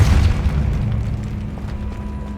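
A Depulso spell is cast in Hogwarts Legacy, landing as a loud deep boom that fades into a low rumbling tail over about two seconds, with no voices.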